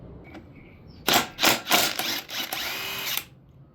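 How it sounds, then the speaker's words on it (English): Ratchet or power driver working a bolt loose on a corroded, rusted 1978 Yamaha YZ400 engine, a second of quiet before several loud, close bursts of whirring and clicking that run together and then stop abruptly. "Let's get this bolt off here."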